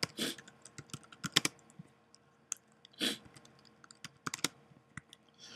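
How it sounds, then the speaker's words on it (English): A computer keyboard typing text in short irregular bursts of close, crisp key clicks, separated by brief pauses, with no voices. "So you can type in some text"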